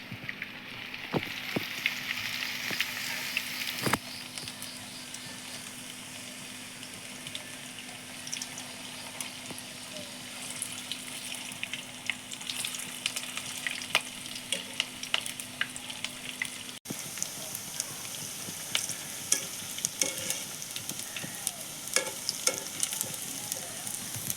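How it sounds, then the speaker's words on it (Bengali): Sago and paneer pakoras fry in hot oil over low to medium heat, giving a steady, close crackling sizzle that runs unbroken throughout, with occasional sharper pops and light clinks. No one speaks. "আমি একটা একটা করে দিয়ে এটাকে ভেজে নেবো আর ভাজার সময় অবশ্যই লো টু মিডিয়ামে রেখেই ভাজতে হবে"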